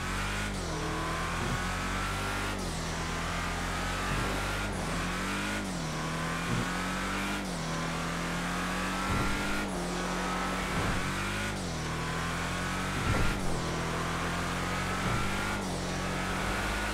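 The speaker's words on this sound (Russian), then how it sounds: "а вот звук разгона и максимальной скорости у доминатора одинаковые во всех случаях." In GTA Online, a Dominator muscle car accelerates repeatedly, the engine note rising through gears with sharp dips at each shift; a steady, loud game engine sound with no talking.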